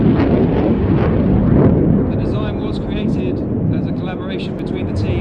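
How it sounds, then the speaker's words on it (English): Royal Air Force Eurofighter Typhoon display jet, the Blackjack display, roaring loud and steady with a broad rumbling thunder that swells then eases slightly, voices faintly under the noise. "It's the Royal Air Force Typhoon display,"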